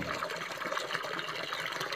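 Running water flowing steadily while rocks are rinsed to tell whether they are genuine, a continuous close splashing trickle with no talk.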